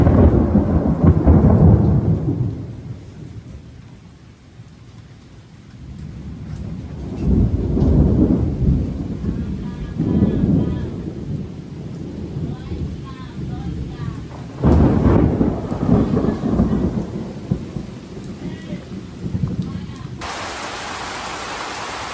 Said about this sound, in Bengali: অবশেষে ডাকাডাকির পর বৃষ্টি কিন্তু নেমে পড়ছে।